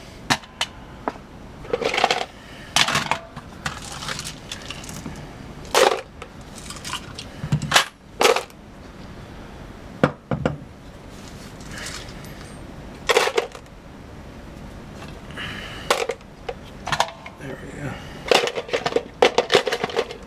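Reloaded 9mm brass cartridges clink and rattle as they are dropped into a box, in scattered bursts of metallic clatter between quieter stretches.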